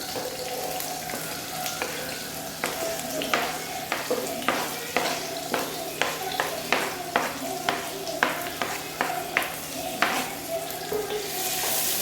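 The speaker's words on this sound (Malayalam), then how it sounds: "ജസ്റ്റ് ഒന്ന് ഇളക്കി കൊടുക്കണേ. സവാളയുടെ ഇട്ട് കൊടുക്കാം." Onions sizzle and fry in a pan while a spoon stirs them, with a run of regular scraping clinks over a steady sizzle and nobody speaking, for a chicken roast dish.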